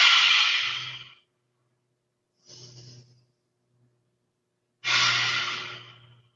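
Strong fire breath during a vinyasa yoga practice: three forceful, breathy exhales spaced by silence, the first and last loud and long, the middle one softer, heard close and alone.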